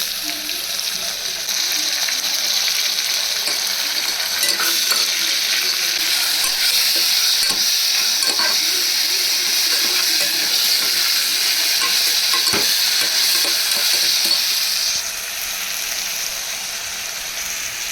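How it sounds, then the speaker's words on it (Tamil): Ginger garlic paste and onions fry for a mutton curry, giving a loud, continuous sizzle with occasional stirring scrapes; the sizzle eases near the end. "இஞ்சி பூண்டு பேஸ்ட்டு ஃப்ரை ஆகிடுச்சு."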